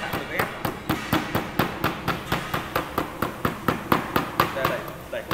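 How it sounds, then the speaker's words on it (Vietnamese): A rubber mallet taps laminate sheet onto a Pima plastic-wood board, about twenty evenly spaced, close, crisp knocks at a quick steady rhythm, with a voice talking underneath. "Khi dán xong bạn sẽ dùng búa cao su nhé, hoặc lưu lăn hoặc là máy ép nguội"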